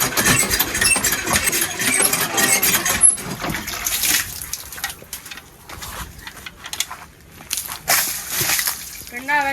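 Water sloshes and splashes over a new motorcycle as it is rinsed down with buckets of water, irregular wet bursts near the microphone while an engine idles nearby and a voice talks.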